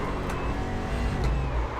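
A Toyota Corolla stock car in iRacing's Brazilian Stock Car Pro Series drives on a road course, its engine a steady, loud drone throughout with no talk.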